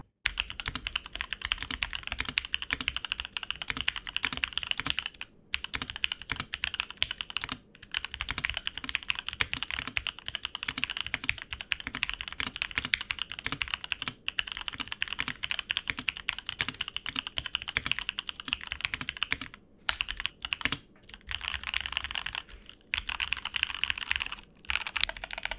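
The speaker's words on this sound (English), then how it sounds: "let's hear the stock sound test with Keychron Cap Milky V2 switches" Steady typing on a Feker IK75 V3 keyboard with Keychron Cap Milky V2 switches and a polycarbonate plate: continuous close, crisp keystrokes in fast irregular runs, with a few brief pauses, no talking.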